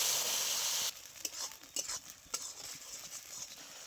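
Tomato paste going into a pan of frying pabda fish curry with cumin and green chilies: a loud hiss that cuts abruptly, then softer sizzling with scattered clacks of a spoon against the pan.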